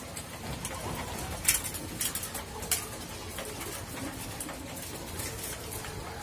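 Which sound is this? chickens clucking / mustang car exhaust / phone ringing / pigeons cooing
pigeons cooing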